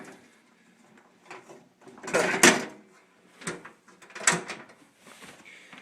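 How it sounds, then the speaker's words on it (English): A few soft knocks and clunks, then the front door of a Pyrotronics System 3 fire alarm panel closing with a solid thud, followed by another muffled bang and faint rattling afterward. "And close the front door."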